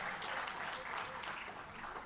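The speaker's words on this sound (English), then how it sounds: "Can we give her a round of applause, our host here in Kampala?" An audience at a Uganda–UAE business forum in Kampala applauds with steady, even clapping heard throughout, fairly faint and slightly distant, with no speech over it.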